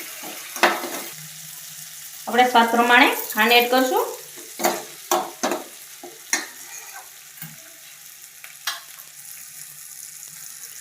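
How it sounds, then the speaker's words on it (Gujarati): A spoon stirs and scrapes a masala mixture for rava vada in a pan, giving scattered sharp clinks and scrapes over a quiet background, with a voice speaking briefly in the middle. "સરસ રીતે બધું મિક્સ કરી લેશું"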